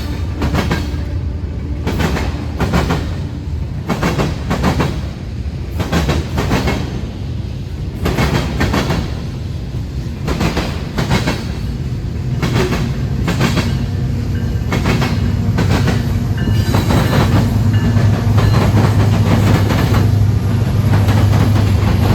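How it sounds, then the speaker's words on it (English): A Union Pacific westbound mixed freight train, carrying the 1983 Western Pacific Heritage locomotive, passes close by with steady rumbling and rhythmic clickety-clack of wagons on rail joints, loud and continuous with no talk. "a westbound mixed freight with UP's 1983 Western Pacific Heritage locomotive"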